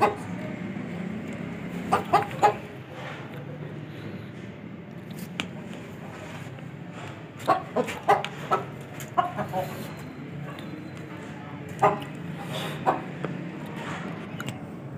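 A rooster clucks in short bursts scattered across the stretch, close by, with quiet shuffling and soft background noise between calls.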